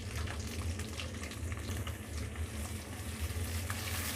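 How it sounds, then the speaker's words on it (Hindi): Chopped onion sizzles and fries in a pan after garlic has been sautéed, a steady, dense crackling hiss that continues loud and unbroken, with no talking. "प्याज को उस वक्त तक फ्राई करना है जब तक ये थोड़ी सी सॉफ्ट हो जाएगी"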